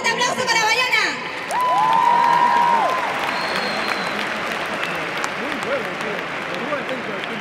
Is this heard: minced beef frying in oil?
no